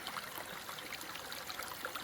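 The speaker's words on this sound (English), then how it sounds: "you can probably hear all the little streams. There are streams that run off the land." Small streams running down a hillside in rural Wales, a steady gentle rush and trickle of water heard up close, with no voices.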